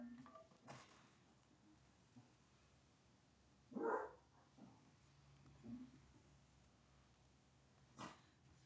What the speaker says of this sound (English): Dogs are having a field day.